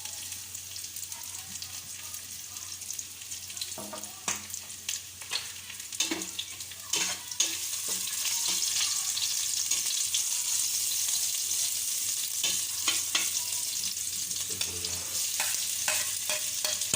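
Cooking oil sizzles and fries in a pan while Pinapaitan, an Ilocos dish, is being cooked. Ingredients are stirred now and then, and a steady hiss runs throughout, growing louder in the second half.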